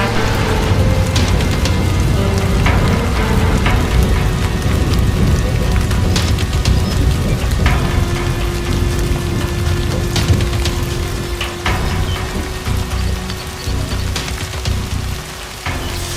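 Heavy rain pelts down steadily and loudly, a dense continuous patter on surfaces with occasional low rumbles beneath and no voices.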